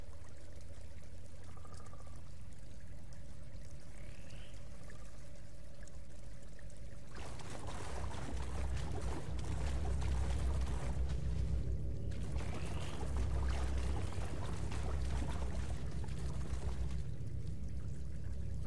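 Water rushing and pouring in a Star Wars Jedi: Fallen Order level, a steady broadband flow that surges louder and denser about halfway through and keeps running with no voices.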